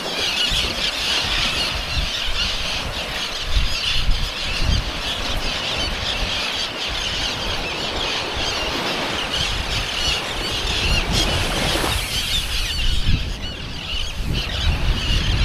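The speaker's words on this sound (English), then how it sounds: "There's a big seagull over there." A seagull calls repeatedly on an island off the Pilbara coast of Western Australia, harsh squealing cries over loud, constant wind or surf noise, with no talking.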